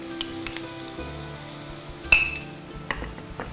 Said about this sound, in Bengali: গাজরটা হয়ে গেছে, এখন আমি দিচ্ছি বাঁধাকপি।